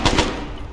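A quick burst of two loud, close shots from a video game machine gun, the last rounds of a magazine dumped in rapid succession.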